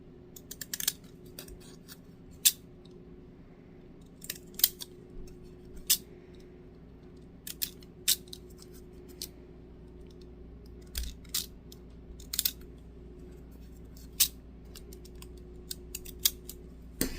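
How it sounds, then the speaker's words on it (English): Pinking shears snipping through paper for junk journal tags, a series of short crisp cuts at irregular intervals, close and fairly quiet, over a steady low room hum. "let me get my little pinking shears"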